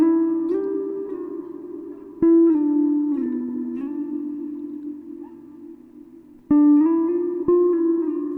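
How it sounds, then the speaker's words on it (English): Electric guitar playing several slides in a row, sharp plucked attacks followed by notes gliding up and down in pitch, clean and ringing, with a few fresh picks across the phrase and no talking. "You can do several slides in a row."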